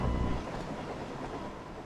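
Train rolling along a track in a Thomas & Friends video game, a steady low rumble of wheels with a heavier swell at the start, then an even running noise.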